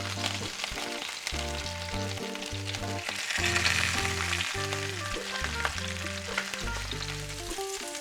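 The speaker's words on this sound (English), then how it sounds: "As you can see, they're starting to brown. You can just turn them over on their side." Lamb shanks brown in a hot frying pan, giving a soft, continuous sizzle that sits mostly beneath loud background music.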